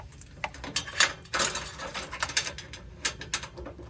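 A ratcheting pipe cutter works around a stainless steel exhaust pipe on a Porsche Cayenne, giving irregular bursts of sharp metallic clicks and scraping turns up close, with no talking.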